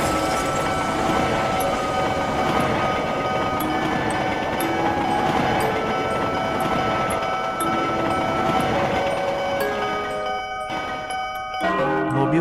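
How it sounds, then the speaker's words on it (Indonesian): A train approaching along a railway, its horn sounding in long sustained tones over the rising rumble and rattle of the cars, loud and continuous, ending in a sharp burst of noise. "Mendengar klakson kereta api, semua petugas damkar keluar dari mobil yang tersangkut untuk menyelamatkan diri."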